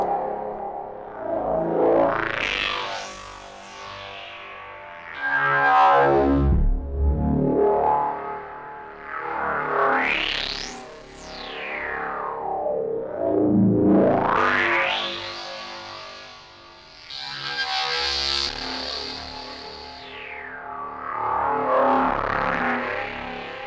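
A Vhikk X synthesizer runs through a band-pass filter with heavy drive, producing a gritty, overdriven tone with sweeping resonant filter movements rising and falling over a long stretch, loud and without talk.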